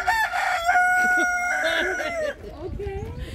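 Desi chickens cluck and a rooster crows loudly and close by, in long drawn-out calls with several birds overlapping, at a garden in Manchester, with people talking faintly in the background.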